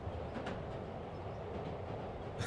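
Subway train rumbling along during fast travel in the video game Marvel's Spider-Man, a steady continuous roar with faint rail clatter, close and even throughout.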